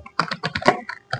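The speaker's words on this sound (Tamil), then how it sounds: "இப்ப நான் டைப் பண்றேன் பாருங்க" Quick bursts of typing on a computer keyboard, several close, crisp key presses in an uneven rhythm with short pauses, heard alone.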